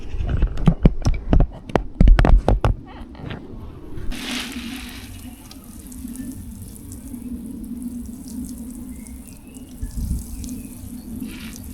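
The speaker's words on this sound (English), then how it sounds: "I am still going to give it a little bit of a water with the watering can." Water poured from a watering can onto wet allotment garden soil after rain, a soft continuous trickle and splash that follows a few seconds of louder knocking and handling sounds.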